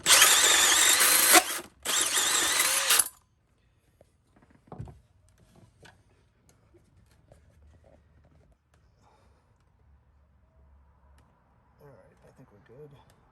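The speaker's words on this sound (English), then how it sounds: "let me ream this out a little bit because clearly it's too tight" A power tool reams out a tight cup holder hole in a boat, two loud high-pitched bursts of about a second and a half each separated by a brief gap, then near silence with faint handling.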